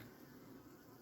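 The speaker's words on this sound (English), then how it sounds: "See some bees in there doing work." Steady, dense insect buzzing from many honey bees in an open hive close by, a continuous hum with no talking.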